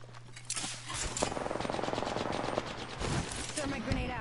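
Enemy gunfire in a PS4 shooter game, rapid bursts of automatic weapon fire rattling close and loud for several seconds, with a faint voice underneath.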